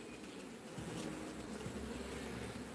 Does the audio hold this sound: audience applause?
no